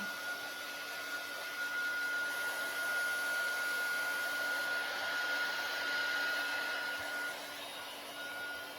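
Hair dryer blowing steadily to dry wet paint on a holiday placemat, a continuous close whoosh with a faint high whine, even in loudness throughout.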